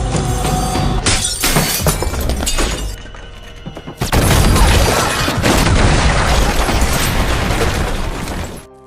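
Loud explosion from the action film Ballerina, a sharp boom with shattering debris around the three-second mark, followed by a second sustained blast and roaring rumble that fades at the end.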